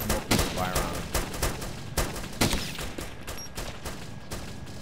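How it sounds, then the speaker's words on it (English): Gunfire in a realistic PC war video game, with repeated sharp shots and bursts in an uneven rhythm that open up on enemies, loud and close, with faint voice sounds in the background. "I'm opening the fire on them."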